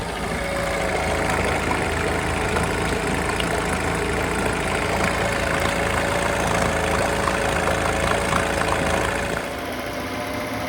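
A Honda B100 10hp four-stroke outboard engine idles close by, a constant mid-pitched drone with a faint rattle, running evenly before dropping slightly in level near the end.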